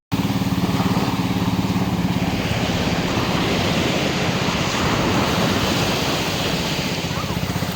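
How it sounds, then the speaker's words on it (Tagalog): Strong ocean waves crashing on a beach in the early morning, a loud continuous surf roar mixed with gusty wind buffeting the microphone, without clear speech. "Lakas ng alon ang aga-aga"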